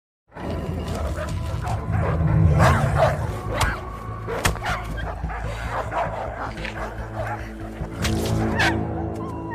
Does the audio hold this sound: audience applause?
no